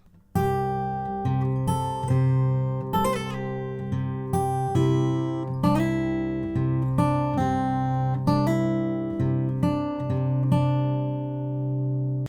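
Acoustic guitar plucked note by note in a steady, repeating fingerpicked pattern, close and clear, with no voices.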